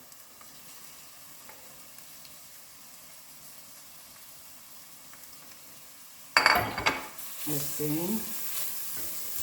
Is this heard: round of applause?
no